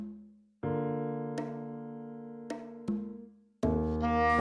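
Music from Breath of the Wild plays softly, a quiet solo piano melody of sustained notes and sparse chords, with a few new notes struck and left to ring out.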